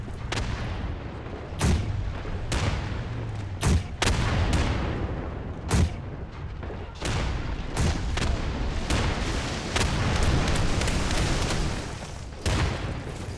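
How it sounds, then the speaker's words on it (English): Heavy artillery bombardment in a war video game set during an invasion of Taiwan: repeated loud booming impacts and blasts, some close and sharp, others rolling, over a continuous rumbling battlefield din with no talking. "The area is under such a heavy bombardment."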